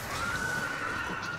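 A horse in Monster Hunter World whinnies in one sustained, fairly loud neigh lasting over a second, with a steady high tone above a busy game soundscape.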